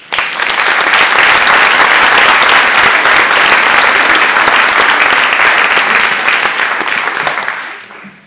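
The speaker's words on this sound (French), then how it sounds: "Merci de les applaudir" An audience at a mayor's New Year address in France applauds the municipal councillors, a loud, dense, sustained round of clapping that holds steady for about eight seconds before tapering off at the end.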